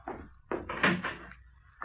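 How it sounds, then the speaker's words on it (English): A door opens in a 1952 radio crime drama, a few close wooden clunks and a creaking rattle in quick succession, fairly soft and without speech. "No, leave the door open, Lou."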